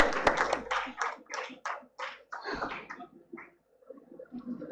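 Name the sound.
audience applause for conference awardees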